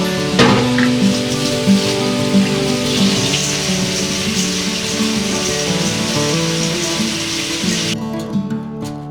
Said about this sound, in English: Now for 4 cups of rice, we are going to rinse it properly with water.